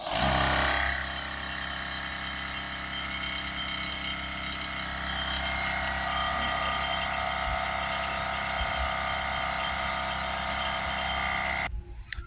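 A Milwaukee 18V cordless portable air compressor runs continuously with a steady, close, mechanical buzzing hum, its pitch and loudness holding even until it cuts off near the end.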